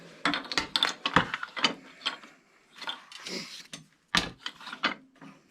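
A ratcheting clamp is worked on a wooden trivet glue-up, producing bursts of rapid clicking pawl ratchets and knocks, close and fairly loud, with brief pauses between adjustments.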